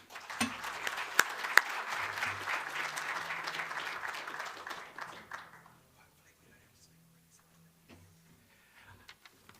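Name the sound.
audience applause welcoming speaker Simon Bridges to stage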